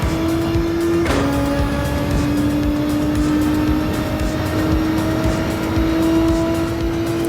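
A race car lapping Le Mans in Gran Turismo 7, its engine a loud, steady high whine that drops sharply at an upshift about a second in, then climbs slowly and continuously, with no talk.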